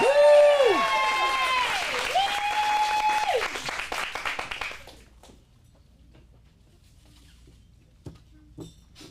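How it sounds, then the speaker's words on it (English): An audience at an adult acting studio script showcase in Phoenix bursts into applause mixed with whoops and high, sliding cheers for about five seconds. The noise then drops off sharply to near silence, with a few faint knocks afterward. "gonna give one more round of applause for energy."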